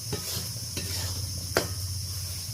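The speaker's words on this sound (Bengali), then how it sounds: "ভালো করে 2-4 বার হালকা হাতে আমি নেড়ে নেব" Masala for a potol, potato and prawn curry fries in a pan with a soft, continuous sizzle, punctuated by a few gentle scraping stirs and one sharper tap of the utensil.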